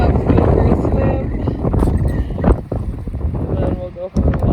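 Strong gusts buffet the microphone beside Emerald Lake, a dense, rough roar rising and falling, with a voice faintly mixed in.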